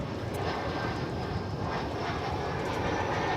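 A Cathay Pacific jet departing DFW airport gives a steady, moderately loud engine roar that holds without a break over a few seconds.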